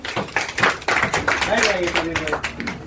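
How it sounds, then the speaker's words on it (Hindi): An audience at a Class 10 success celebration claps in scattered, uneven bursts, fairly faint, mixed with voices and crowd chatter throughout. "तो एक बार जोरदार तालियां हो जाए इनके लिए भी।"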